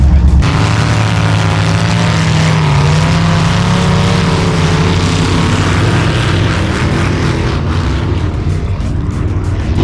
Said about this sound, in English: Makes it really hard to vlog with all this engine noise.